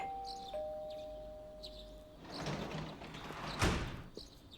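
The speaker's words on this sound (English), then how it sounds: "You hear the doorbell ringing." A ding-dong doorbell chimes inside a house in the video game Persona 4 Golden, a clear two-tone ring followed by softer rustling and a brief thud, with no one talking.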